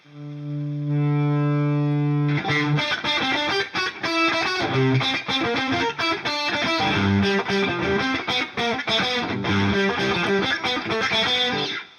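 Electric guitar with effects, starting from a sustained low swell before busier distorted playing fills in, loud and continuous throughout.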